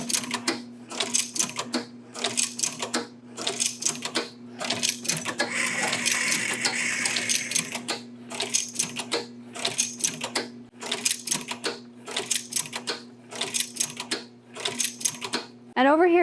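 A label printing machine at a woven label print shop runs with steady, evenly spaced mechanical clacks over a constant motor hum, close and fairly loud, briefly thickening into a denser whir midway.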